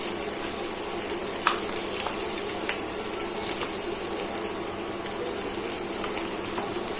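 Chicken changezi masala with almond powder and Kashmiri chili powder fries in a pan, giving a steady, even sizzle throughout with a few faint clicks of a utensil.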